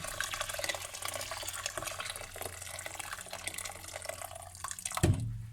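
Boiling water pours steadily into a pot of rice nearby, a continuous splashing rush that ends in a brief bump.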